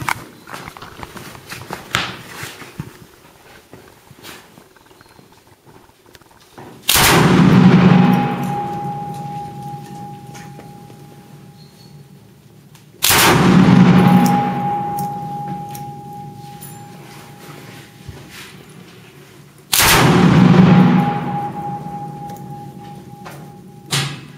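A UK-59 machine gun fires three short bursts at a range, each a sharp loud onset followed by a ringing decay, spaced several seconds apart with quiet between.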